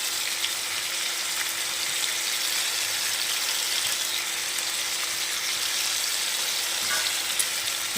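Cauliflower and rohu fish curry frying in a pan with salt just added, a steady, close sizzle of hot oil that holds at an even level throughout with no one speaking.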